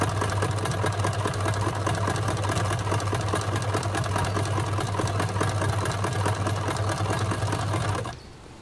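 A sewing machine runs at a fast, even, continuous whir while stitching fabric for an otter plush, loud and close, then stops abruptly near the end.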